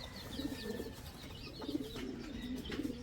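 A large fancy pigeon coos close by in repeated low, throaty phrases spaced about a second apart, over faint background noise with a few distant chirps.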